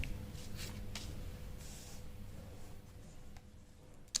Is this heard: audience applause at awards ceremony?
no